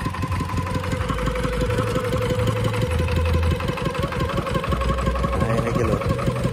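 A diesel engine drives a Ferris wheel at a night market fairground, running steadily with a rhythmic, knocking chug, close and continuous, with no talking.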